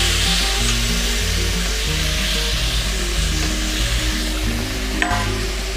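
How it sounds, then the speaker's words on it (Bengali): Pumpkin leaves hit a hot pan with whole green chillies, giving a loud, steady, close sizzle of frying that runs unbroken throughout, with a brief clink near the end. "দিয়ে দেবো কুমড়ো শাকের পাতা"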